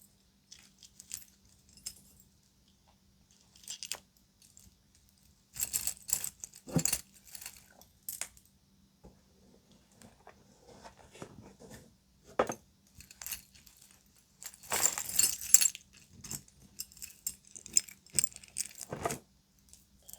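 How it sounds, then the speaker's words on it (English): A box of old car keys and skeleton keys jangles in scattered bursts of close metallic clinking, separated by quiet pauses, soft and alone with no talk. "I ended up with an entire box of keys that he would bring home to me from old cars"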